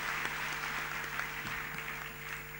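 Audience applause at a graduation function for officers of a training school in Mumbai, a steady wash of many hands clapping from a large seated crowd, fairly distant and even throughout, with a faint steady hum underneath.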